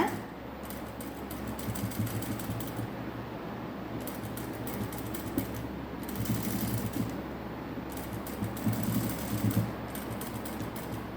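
Sewing machine stitching a patchwork blouse with a border along a curve, a continuous close mechanical whirr and clatter with brief pauses, running steadily and alone.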